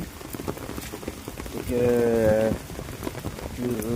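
Steady heavy rain hisses throughout during Cyclone Dana with strong wind, with a voice humming or speaking briefly in the middle and near the end.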